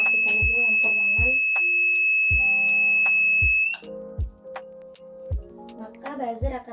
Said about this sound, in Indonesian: Saat keadaan terang, buzzer atau alarm akan menyala.